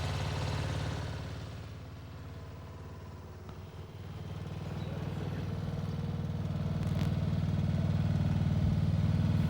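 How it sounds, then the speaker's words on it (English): A Westwood T1200 lawn tractor with a 12 hp Briggs & Stratton engine runs steadily at a low, rumbling idle, fairly quiet, swelling a little louder partway through, with no voices. "It's got a 12 horsepower Briggs & Stratton engine, which in simple terms means plenty of oomph whenever you need it."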